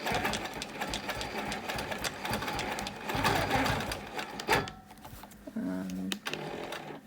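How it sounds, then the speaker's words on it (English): A quilting sewing machine stitches a small circle on a wholecloth quilt, running in a fast continuous whir, then stopping briefly before a few short restarts. "I'm going to stitch out this little circle."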